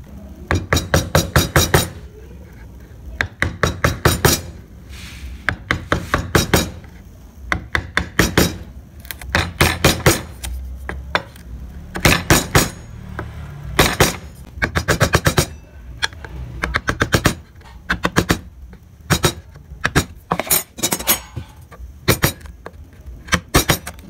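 A chisel is tapped again and again while carving a barong motif, with sharp, close knocks in irregular bursts and short gaps between them, and no voices.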